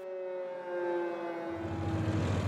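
Air raid sirens sound over Kyiv at night, a long steady wail carrying at moderate loudness with no voices, joined partway through by a low rumbling background.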